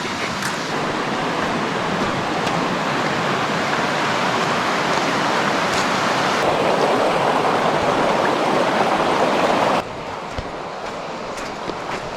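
A mountain valley stream rushes steadily nearby, a dense, loud wash of flowing water that stays constant throughout, its tone shifting slightly partway through as if the listening position moves.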